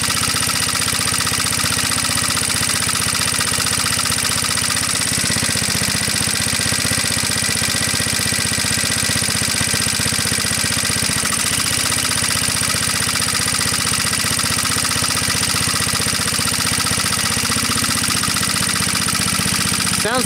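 An antique Onan PE-88 Signal Corps power unit, its governor linked to the throttle butterfly, runs with a steady, loud engine drone as its electrical load is dropped and reapplied, and the running sound holds fairly even throughout.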